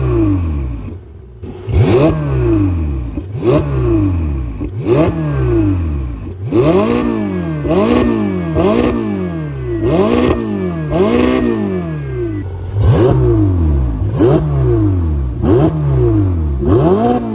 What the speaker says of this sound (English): listen to crackles and pops and the deep sound of this beautiful V8